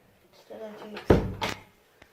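A loud smash or bang, like a door or cupboard slamming hard, in a spooky night-time setting, with a fainter thud before it and a small knock near the end; a voice murmurs before the bang.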